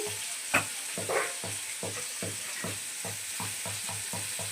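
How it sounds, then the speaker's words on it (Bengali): Dried red chilies and a bay leaf fry in hot oil with a soft, steady sizzle, broken by a regular series of scraping stirs and a couple of sharper pops near the start. "তেজপাতা দিয়ে দিলাম শুকনো লঙ্কা দিয়ে দিলাম"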